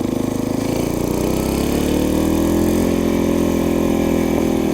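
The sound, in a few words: small Briggs single-cylinder engine chopper running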